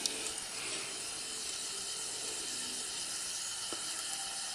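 An alcohol burner inside a Solo Stove produces a steady, broad rushing roar, like a small jet engine, close and constant throughout, with faint metallic ticks and no talking.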